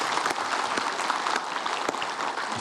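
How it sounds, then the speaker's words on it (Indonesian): An audience at an Islamic religious talk show gives a continuous, fairly loud round of applause to welcome a preacher, with no speech heard over it. "Tepuk tangan untuk Ustadz Zaki Mirza."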